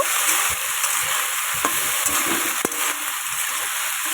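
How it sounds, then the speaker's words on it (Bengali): Steady hissing sizzle of green cauliflower frying in a pan with turmeric, chilli and cumin powder, with occasional soft scraping and stirring knocks. "এবার দেখো আমি ফুলকপিগুলো সুন্দর করে ভেজে নেব"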